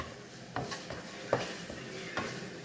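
Onions frying in a pan for a spinach and egg curry, a soft steady sizzle broken by several clinking stirs of a spoon against the pan, close and fairly quiet.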